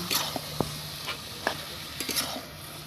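Pre-fried potatoes being stirred into chicken in a hot pan, with a soft sizzle and scattered scraping stir strokes, close and moderately quiet.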